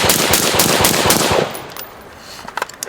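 Rapid automatic rifle fire from a Mark 18 carbine fitted with an Energetic Armament Ferox suppressor, loud and continuous for about a second and a half before tailing off into a few scattered sharp reports.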